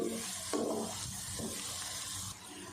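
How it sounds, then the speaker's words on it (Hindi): Finely chopped vegetables frying in a pan for veg fried rice give a steady, close sizzle, with occasional scraping and stirring sounds and no voices. "अगर आपके पास चावल बॉयल पड़े हैं तो 5 से 6 मिनट लगता है सब्जियों को फ्राई होते"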